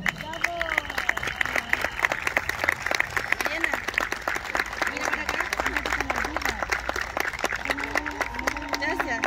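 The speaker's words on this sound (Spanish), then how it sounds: "Fuertes aplausos." Crowd at an outdoor awards ceremony for school marching bands applauds with steady rapid clapping while voices talk and call out over it.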